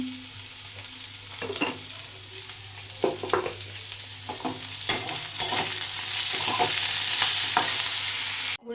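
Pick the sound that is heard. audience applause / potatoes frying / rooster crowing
potatoes frying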